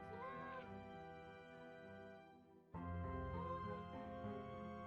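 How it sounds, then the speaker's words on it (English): A cat meows twice in Mystery of the Seven Keys, with clear, fairly quiet, drawn-out tonal cries, the second one louder after a brief pause, over a steady soft musical background. "Am I hearing a cat? Yeah, I think there's a cat in the wall."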